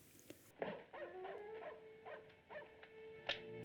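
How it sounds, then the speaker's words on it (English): A dog yelps and whines in a black-and-white monster film soundtrack, several short cries rising over a steady hiss and background score, fairly faint. "Just dogs barking"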